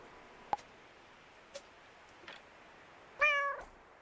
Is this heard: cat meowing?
yes